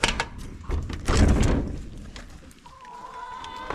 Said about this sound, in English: it's the chickens in here pounding away at the door